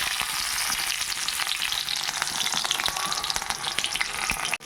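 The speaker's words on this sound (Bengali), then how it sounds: "এবার আমি এই যে ক্যাপসিকামটা দিয়ে দিচ্ছি।" Capsicum pieces sizzle steadily in hot oil with white cumin seeds for a vegetarian potato dum, a loud, close, continuous frying hiss with small crackles and a few stirring scrapes.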